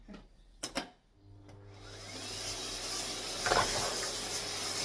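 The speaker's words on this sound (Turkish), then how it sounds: "Haydi bakalım süpürge başlasın." A vacuum cleaner switches on after a couple of knocks, rising into a steady loud whirring hiss that continues to the end.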